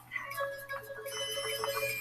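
A phone rings in a bright electronic ringtone, a fairly quiet, repeating warble that runs through the short moment without speech.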